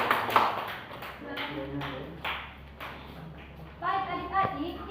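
Schoolchildren in a science class clap in scattered bursts while young voices chatter and call out over and between the claps, the clapping moderately close and uneven.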